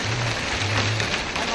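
Hail mixed with rain falls steadily on surfaces, a dense, loud, close patter that never lets up, with a faint low hum beneath and no voices.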